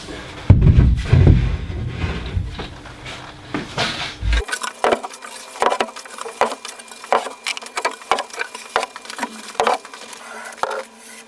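Pin nailer driving pins into D-profile hardwood lipping on cabinet shelves, heard as a series of sharp, close snapping shots at irregular intervals, with some handling noise and knocks before them.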